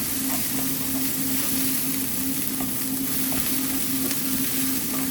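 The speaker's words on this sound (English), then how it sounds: "Okay, so now we're sizzling away." Onion pieces fry in oil in a pan, giving a steady, continuous sizzle with a faint hum underneath and no talk.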